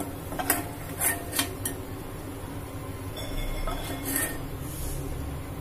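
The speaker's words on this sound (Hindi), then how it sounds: "प्याज ब्राउन हो गए हैं, गैस बंद कर देंगे और इनको हम निकाल लेंगे" A spoon scrapes browned onions from a metal kadhai used for paneer biryani, giving several close metallic clinks and a steady rough scraping, with no talk.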